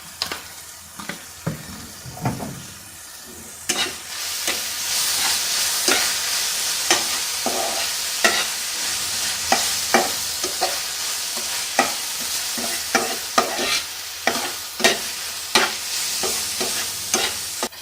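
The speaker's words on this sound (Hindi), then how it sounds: "सॉस में हम मुसलसल चम्मच हिलाते रहेंगे।" A spoon stirs vegetables with soy sauce and chilli sauce in a frying pan, giving repeated sharp scrapes and clacks against the metal in an irregular rhythm over a soft, continuous sizzle, close and clear with no talking.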